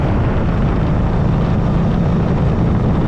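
Steady, loud motorcycle engine drone while riding, a fast bike unlike a Harley Fat Boy, with constant broadband roar and wind noise throughout, no talking.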